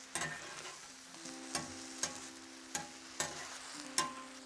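Onions and mixed vegetables charring on a Vulcanus grill at River Cottage, a soft steady sizzle broken by regular crisp clicks and scrapes of tongs or turning, several distinct knocks, no speech.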